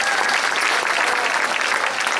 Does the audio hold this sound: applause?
yes